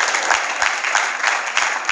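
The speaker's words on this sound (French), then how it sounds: "Est-ce qu'on peut applaudir bien fort pour Linda?" An audience at the Nzonzing Awards ceremony applauds for Linda of the group Simba, a dense, steady burst of clapping with a faint rhythmic pulse running through it, close and full, with no voices.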